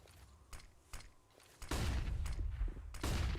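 Mac 10 submachine gun fire in a Counter-Strike match, with sparse bursts at first and then denser, louder rapid fire alongside other in-game weapon sounds.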